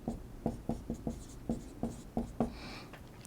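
Pen strokes as a chemical name is written out by hand, a series of short scratchy taps in an uneven rhythm followed by a brief longer scrape, close and quiet with no voice.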